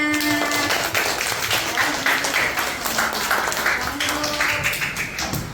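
Children in a classroom clap together for their classmates, a dense, steady patter of many small hands filling the room, with faint voices mixed in.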